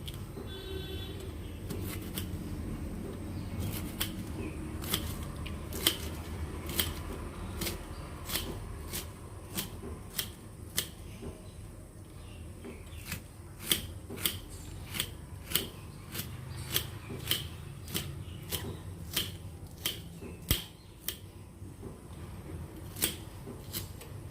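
A knife finely chops a banana flower portion for cooking, tapping out quick, even, crisp strokes that run for about twenty seconds over a quiet kitchen background.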